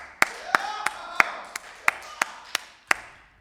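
Nine sharp hand claps in a steady, evenly spaced rhythm, close and crisp, with faint talking underneath.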